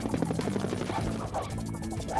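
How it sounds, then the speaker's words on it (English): A runaway drone in an animated kids' rescue show whirs with a steady fluttering buzz, mixed under music. "This drone is flying too wildly to catch."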